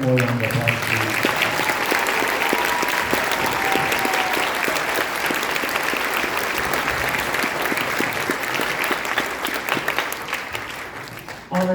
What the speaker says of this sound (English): let's give her one more round of applause, please